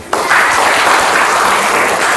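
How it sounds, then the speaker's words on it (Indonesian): A classroom of students claps together, a sudden loud burst of dense applause that starts abruptly and carries on evenly to the end, with nobody talking. "tepuk tangan dulu."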